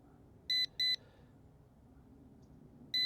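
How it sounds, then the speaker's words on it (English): A handful of sharp electronic warning beeps from an ATTOP W80 Wolvy Pro GPS camera drone, two quick ones close together and another a couple of seconds later, over steady outdoor background rumble near pickleball courts. "Yeah, so now I got a beep."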